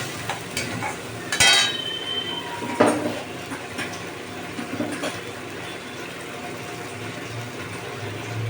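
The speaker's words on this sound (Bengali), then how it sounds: "এবার আমি মশলাটাকে কষাবো" A spatula stirring and roasting spice paste with yogurt and a little sugar in a pan for Bengali tangra fish curry, soft sizzling under a few scraping strokes and clacks, moderately close, no talking.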